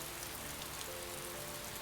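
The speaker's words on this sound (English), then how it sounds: "Rain, the sound of rain just knocks me out." Steady rain falls in the Cafe Enchante video game, a soft, even hiss of drops on a surface, quiet and continuous with no voices.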